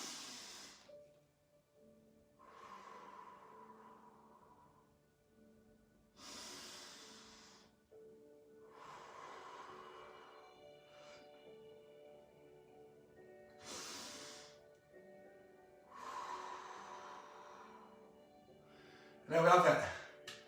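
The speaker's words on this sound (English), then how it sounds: "I'm going to finish off with 3 nice big deep breaths." Three deep, slow breaths are taken at the end of a home stretch workout, each a long airy inhale and exhale with quiet pauses between, ending with a short sharper breath.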